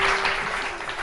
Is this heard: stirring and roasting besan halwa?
no